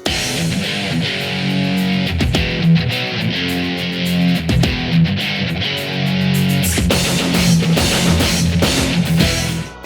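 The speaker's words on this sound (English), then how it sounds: "There are also heavy guitars in the battle themes." Dense, saturated electric guitars grind out a loud rock riff in a Shin Megami Tensei Raidou-style battle theme, with steady driving rhythm and thick low chords, over a full band mix.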